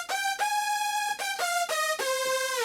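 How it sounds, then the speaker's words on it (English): A second saw-wave synth layer, used to thicken a hardstyle lead, plays a short run of bright buzzing notes with several clear attacks, loud and on its own. "a more standard saw way to thicken up the first sound a little bit."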